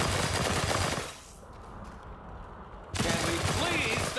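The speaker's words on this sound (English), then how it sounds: "Stop shooting at me!" Loud bursts of gunfire in the VR shooter After the Fall, a sustained volley that drops away briefly before resuming just as intensely.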